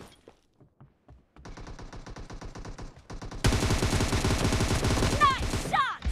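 Rapid automatic gunfire in the PUBG Mobile shooter game, starting as scattered shots and building to a loud, sustained burst of close machine-gun fire.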